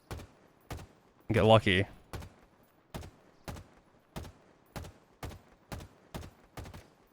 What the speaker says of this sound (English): So if I zoom in and shoot it with an assault rifle,